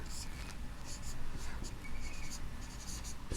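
Chalk or marker writing on a classroom board during a Hindi grammar lesson, a steady scratchy stroking with short bursts of strokes, close and fairly quiet, continuous throughout.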